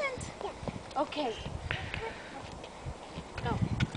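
Horse hooves clip-clopping outdoors during a walk, a few irregular knocks mixed with a voice and other talk close by.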